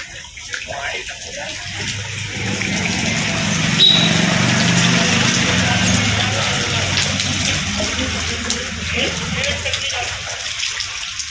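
Floodwater from heavy rain flowing inside houses, a steady broadband rush and gush of water that continues throughout, fairly loud and close, with faint talk in the background.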